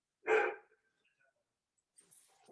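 A dog barks once sharply nearby indoors, then after a pause a fainter rustle and the start of another muffled bark, with no talking.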